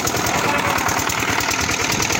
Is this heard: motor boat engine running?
yes